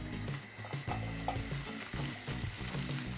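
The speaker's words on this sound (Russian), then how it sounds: "Сухари обжариваются до золотистой корочки." Bread croutons for a Caesar salad fry in a hot pan until golden, giving a faint, steady sizzle with soft clicks and scrapes, close by and without talk.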